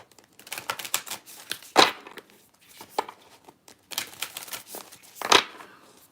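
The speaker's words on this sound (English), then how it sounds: "I quickly shuffled them, but I didn't pick any cards" Tarot cards being shuffled by hand, a series of soft crisp riffles and rustles in short bursts with pauses between them, close and fairly quiet, no talking.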